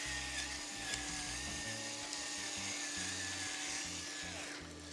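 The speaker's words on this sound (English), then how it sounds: "Of course you need a little freshly ground black pepper" Black pepper grinding in a pepper mill: a continuous rough, rasping crunch with an irregular grinding rhythm, close and fairly quiet, without any talk.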